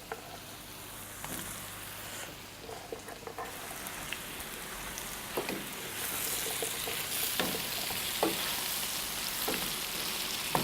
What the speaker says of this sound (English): we're going to make sure that everything sautés properly, everything is coated in the spices